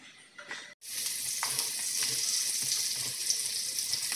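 Bitter gourd with tomato and garlic hits a hot pan after a brief quiet moment, bursting into a loud, steady, close sizzle that continues without pause.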